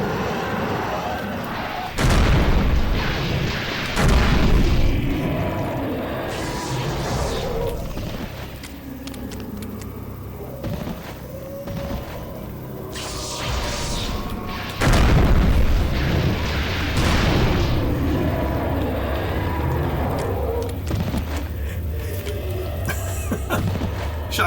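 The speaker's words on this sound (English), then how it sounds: "Shotgun. Love it." Shotgun in the Eternal Darkness video game, during a low-sanity fight with Xel'latoth, fires several loud, booming blasts spaced seconds apart, two of the heaviest at about two and fifteen seconds, amid rumbling game effects.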